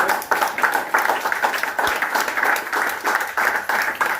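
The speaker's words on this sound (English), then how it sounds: "So I want everyone to give them a clap for them." A crowd applauds steadily, many hands clapping together in a dense, continuous patter that holds at the same level throughout.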